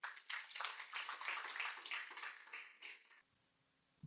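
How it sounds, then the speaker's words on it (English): An audience claps at an event honoring Mr. Muhammad Ali, a sustained spatter of hands that fades out near the end, leaving near silence before a brief sound returns. "So please give a round of applause to Mr."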